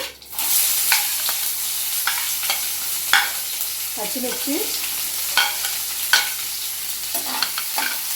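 Onion pieces and green chillies fry in a hot tempering of seeds, a steady close sizzle punctuated by regular spoon taps and stirring scrapes, with a short spoken word partway through.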